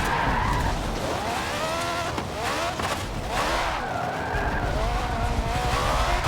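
In a racing video game, a car drifts with long squealing tire skids over a steady engine roar, the screech rising and falling as the slide continues.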